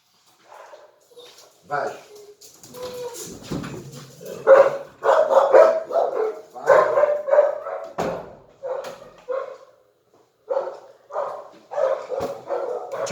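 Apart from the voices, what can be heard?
dog barking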